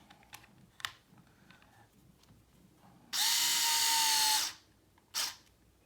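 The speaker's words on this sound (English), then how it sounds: "an electric screwdriver." Electric screwdriver driving a screw into plastic parts during an RC10 B6.3 radio-control car build: one loud whirring burst over a second long, then a short follow-up spin, with light clicks of handling before.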